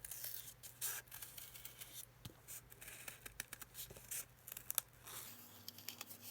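Faint snipping and rustling of scissors working through paper, soft, close and irregular, over a low steady hum.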